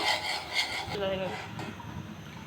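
A thickening mixed-nut ice cream mixture is stirred in a pot, giving close, repeated rubbing and scraping strokes of a spoon against the pot, fading to a softer scrape.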